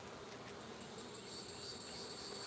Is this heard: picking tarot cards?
no